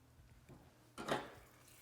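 Butter hits browned, lightly smoking caramelized sugar in a pan for a chocolate caramel tart, bursting into a sudden sharp sizzle after a quiet moment and then easing off.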